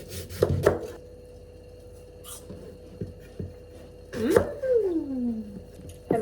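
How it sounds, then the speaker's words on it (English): A knife cutting an apple in a small kitchen, with a few crisp chops near the start and again around the middle, over a steady low hum. "I am going to cut my apple."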